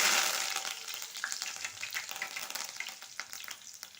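Curry leaves and tempering spices crackle and sizzle in hot oil in a kadai, a bright, busy frying hiss with sharp pops, loud at first and easing slightly.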